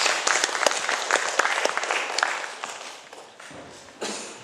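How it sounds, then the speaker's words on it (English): An audience at a talk at the Weird Weekend 2010 event claps warmly for several seconds, the applause fading toward the end with a brief final burst. "A round of applause to you"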